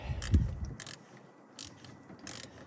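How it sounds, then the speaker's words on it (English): A wrench works a bolt loose on a Dodge Ram while a 15 holds the opposite side, giving a few short metallic ratcheting clicks in separate bursts, close and fairly quiet. "I got to get a wrench on this one here and loosen it."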